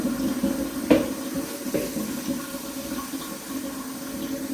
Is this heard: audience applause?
no